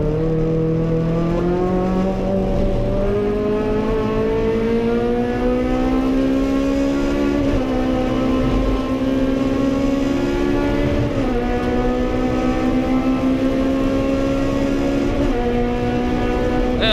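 Hot hatch race cars at Silverstone in a 2017 750MC race give a loud, continuous engine roar. The revs climb steadily, then drop briefly at each gear change before rising again, close and unbroken throughout.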